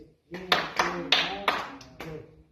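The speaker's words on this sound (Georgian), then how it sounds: "მოკლე ტაშით ჩემთან ერთად" Short, sharp hand claps land in a steady rhythm, about five in a row, close by and mixed with a chanting voice.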